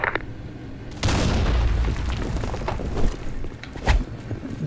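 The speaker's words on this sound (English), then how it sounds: "Grenade!" A grenade explosion in the Blackshot video game bursts in suddenly with a loud boom that rumbles and fades over several seconds, followed by a couple of further thumps.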